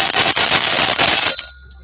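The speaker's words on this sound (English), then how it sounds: "I'm going to ring the bell." A bell rung steadily and loudly for over a second, a bright continuous ringing that stops abruptly and leaves a brief fading tail.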